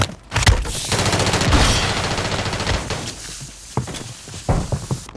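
Bursts of automatic gunfire in a first-person shooter game featuring the Striker-9, rapid overlapping shots rising into a sustained volley, then a few sharper isolated shots and thuds toward the end.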